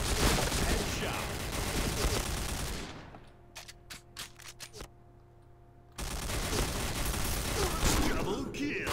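Bursts of G36C rifle fire in the shooter game PointBlank, dense rapid volleys with a voice speaking over them, then a quieter stretch of sharp separate shots before heavy firing resumes loud and close.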